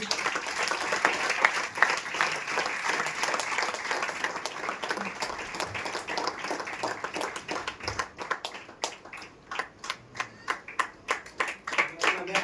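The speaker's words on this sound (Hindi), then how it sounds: "स्तुति की तालियां देंगे" Church congregation clapping in praise, a dense steady round of applause that gradually thins into a few distinct, rhythmic claps toward the end.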